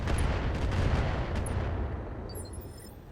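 BattleTech mechs trade heavy weapons fire in the video game, a dense rumbling barrage of booming impacts and blasts that is loud at first, then eases toward the end with faint electronic chirps.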